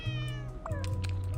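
A puzzle block in a video game gives a short cartoonish meow each time it is clicked, two clear high-pitched meows in quick succession, close and alone.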